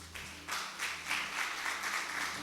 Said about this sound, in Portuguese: Vamos aplaudir ao Senhor por causa dessa palavra.